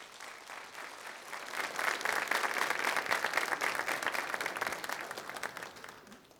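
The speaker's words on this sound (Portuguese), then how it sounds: "Vamos aplaudir o Senhor mais uma vez por isso." A church congregation bursts into applause, the clapping swelling to a full, sustained roar before gradually thinning out toward the end.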